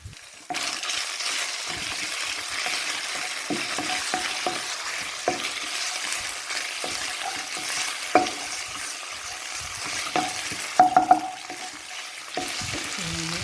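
Pork stir-fries in a pan for Thai rad na, a moderate sizzle with repeated spatula scrapes and clinks against the metal, a few louder knocks near the end, and no voices.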